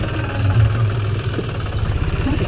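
A tractor engine idles steadily on a potato farm during planting, a low continuous rumble with a mid-range drone holding even throughout, close by and without talk.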